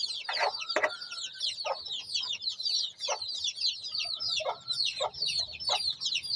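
A mother hen clucks steadily near her young chicks, whose high, thin peeps chirp densely and continuously throughout.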